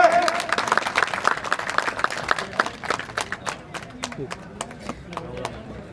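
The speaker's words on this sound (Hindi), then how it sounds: "जोरदार तालियां भादरा के इस बब्बर शेर के लिए।" Applause at a BJP political gathering in Bhadra, clapping bursting out near the start and fading into scattered claps while a voice speaks over it.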